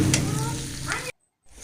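Chili and onion frying in a pan, a steady close sizzle that runs for about a second, cuts to silence, then comes back faintly.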